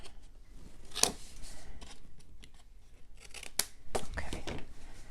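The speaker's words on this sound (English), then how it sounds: "let me go ahead and trim these corners" Scissors trimming the corners of a paper mini album flap, several quiet close snips and crisp paper rustles spread irregularly, with no voice heard.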